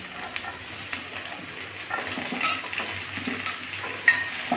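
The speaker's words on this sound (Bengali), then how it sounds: "এবার আমি কুচিয়ে রাখা আলুগুলো দিয়ে দিচ্ছি" Chopped potatoes fry with onion and garlic in a hot pan, a soft continuous sizzle with occasional stirring scrapes and a light metallic clink near the end.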